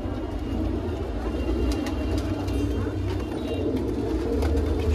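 Pigeons, among them a Khatang fancy pigeon, coo in a low, continuous murmur at a pigeon loft, with a steady rumbling background and a few faint higher chirps over the five seconds.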